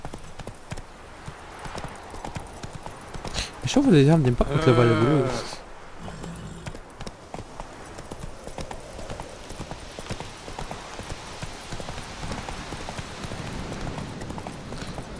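Horse hooves clip-clopping at a run in The Witcher 3, with a louder burst mid-clip and someone talking over the game sounds throughout.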